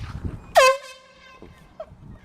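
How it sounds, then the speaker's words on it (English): One short, very loud air horn blast rings out close by, a brassy tone that cuts off after about a quarter second, with faint room noise around it. "Okay guys, this is how loud it actually is."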